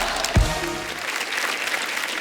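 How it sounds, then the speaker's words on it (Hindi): Studio audience applause on a comedy talk show, a steady wash of clapping lasting the whole clip, with a brief low thump near the start. "बुधवानी साहब के लिए जोरदार तालियां।"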